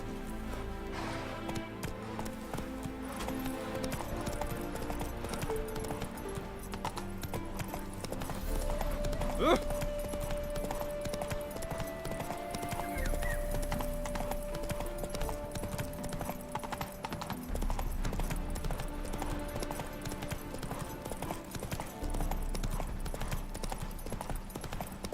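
Horse hooves clip-clop steadily as a rider travels in The Witcher 3, an even trotting rhythm under a constant layer of game music and ambience, with a single tone rising briefly partway through.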